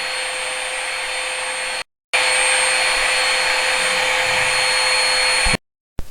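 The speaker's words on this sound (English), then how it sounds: "That's the pump on doing its stuff." A small air pump motor hums steadily with a whining tone in a wooden church porch, cutting out briefly twice before starting again; no one speaks.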